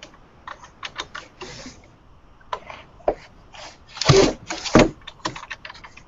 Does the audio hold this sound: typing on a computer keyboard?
yes